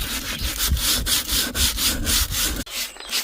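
Sandpaper rubs back and forth over a vintage wooden cottage chair to strip old varnish, giving loud, close, rhythmic rasping strokes at a steady pace before stopping abruptly.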